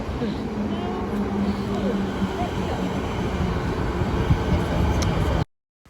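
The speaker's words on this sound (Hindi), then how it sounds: "हम ट्रेन स्टेशन जाएंगे और वहाँ से ट्रेन कैच करेंगे" A train at a station, heard as a continuous loud rumbling roar of rail traffic with crowd voices mixed in, ending abruptly in silence.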